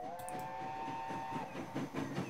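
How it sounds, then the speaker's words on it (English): Train whistle in the railway game Transport Fever, a loud sustained steady blast lasting over a second that then cuts off, over rumbling rail and carriage noise. "Oh, I love that. That's an awesome whistle."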